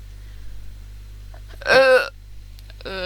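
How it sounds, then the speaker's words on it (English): A single short, close belch lands in a quiet room over a low steady hum, followed moments later by a faint voice. "Sorry for the burp."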